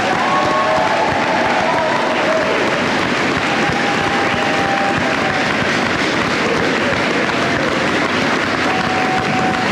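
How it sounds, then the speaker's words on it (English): Graduates of Lacaparo Valley's 2021 class receive applause at their graduation ceremony: a dense, steady wash of clapping and crowd noise that fills the hall, loud and unbroken for the full stretch. "please give a round of applause to our Lacaparo Valley 2021 graduates"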